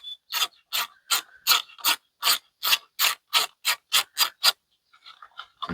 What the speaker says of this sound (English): you just take your 8mm socket